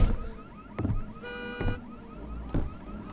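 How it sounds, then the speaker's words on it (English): Car alarm in the video game Visage: a pulsing electronic alarm with repeating tones and a rapid buzzing burst, moderately loud and heard alone. "The car alarm stopped. No, it didn't."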